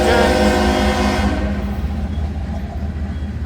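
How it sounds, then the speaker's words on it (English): A long combination freight train with two sets of LNG locomotives passing close by with a loud harmonic horn-like tone that fades, leaving a low rumble of rolling wagons. "So this is a combination train. It's going to be a long train."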